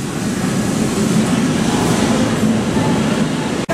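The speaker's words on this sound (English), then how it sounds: "And tram number 4." A loud, steady rumble of a tram rolling close by, continuous and droning throughout with no voices.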